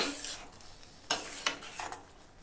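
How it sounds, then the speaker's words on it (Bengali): Soft scraping and stirring as a spatula mixes vegetables and fried paneer in a pan, with a few distinct scrapes and light clinks over a faint sizzle, quiet and close. "তারপর হালকাভাবে খুন্তি দিয়ে মিশিয়ে নেব।"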